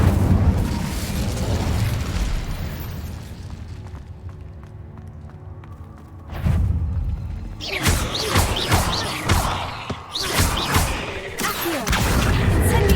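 Spell-casting blasts from the Incendio fire spell in Hogwarts Legacy crackle and burst in a dense run of sharp impacts near the end, after a quieter rumbling stretch, loud and close.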